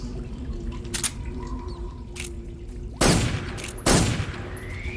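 Stun grenades going off in the video game Metal Gear Solid 3, two sharp loud blasts in close succession with a crackling tail, following a few smaller clicks and muted in-game ambience.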